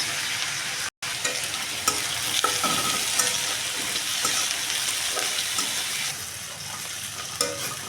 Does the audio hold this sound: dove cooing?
no